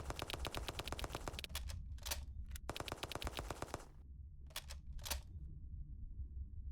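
Rapid bursts of automatic gunfire from a zombie shooter video game, loud and close, rattling in long volleys broken by short pauses and single shots.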